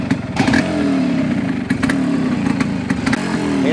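A Suzuki Barako motorcycle engine running steadily and loudly up close, its low throbbing idle rising briefly into revs with some mechanical clatter, with no voices.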